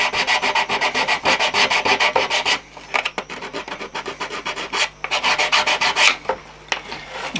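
Sandpaper is rubbed back and forth on wood while trimming part of a water tower model, giving fast, steady rasping strokes, close and loud, with brief pauses and no talking.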